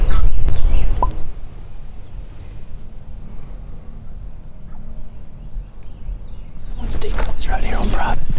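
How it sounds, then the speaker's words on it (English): A wild turkey gobbles on Texas public land during a hunt, with bursts of gobbling at the start and again near the end over an outdoor background. "Got a different turkey gobbling."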